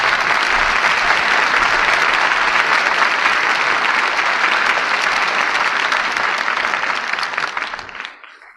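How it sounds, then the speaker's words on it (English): Dense, loud studio audience applause following a 1940 radio drama broadcast, sustained evenly for several seconds before tapering off and cutting out. "we all join in applauding the artists who brought us this play tonight"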